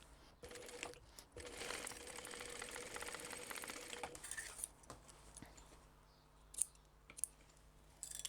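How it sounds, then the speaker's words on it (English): A sewing machine stitches waxed canvas for a crossbody bag, a steady mechanical whir running in a long stretch near the mic, then giving way to scattered clicks and handling knocks. "I'm just going to sew it because the wax canvas stays pretty much where it's supposed to"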